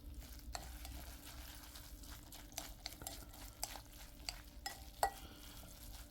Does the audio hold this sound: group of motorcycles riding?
no